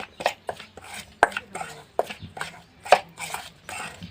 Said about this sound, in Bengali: এবারে খুব ভালো করে মিশিয়ে নেব শুকনো উপকরণটা